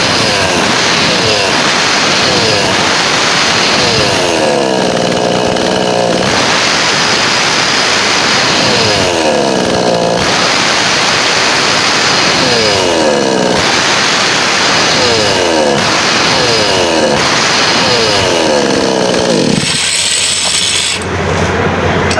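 King Park KP 58cc petrol chainsaw engine roaring loudly, revved up repeatedly in rising and falling bursts every few seconds with a rough, buzzing two-stroke tone, dropping away briefly near the end.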